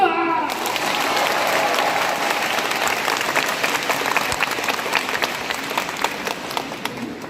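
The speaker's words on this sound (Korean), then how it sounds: "박수!" An audience in a Catholic church applauds steadily throughout, a dense wash of many hands clapping that slowly fades slightly toward the end.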